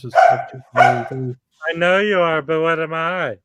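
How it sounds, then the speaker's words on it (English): A pet dog lets out a drawn-out, whining bark-like cry right after a person speaks, close and fairly loud in an indoor room. "That was my dog."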